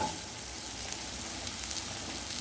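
Cut potatoes frying in hot oil for a rohu fish curry give off a steady, even sizzle with a soft crackle, close and continuous with no talking.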